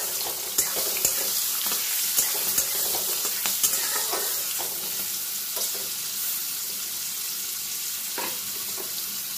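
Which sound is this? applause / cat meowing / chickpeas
chickpeas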